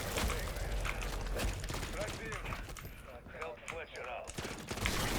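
Rapid automatic gunfire in the video game Modern Warfare Zombies, dense and continuous bursts close and loud, with a voice talking over the shooting.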